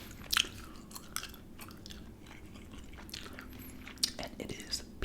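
Gum chewed close to the mic in a soft, intimate setting, with moist smacks and clicks that keep coming irregularly and sharper bursts at the start and near the end, under faint quiet speech.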